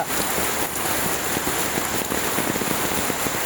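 Heavy rain pours down in a dense, continuous hiss of drops pattering on surfaces, loud and steady throughout with no voices.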